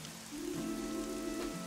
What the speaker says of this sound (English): I told you it was gonna rain.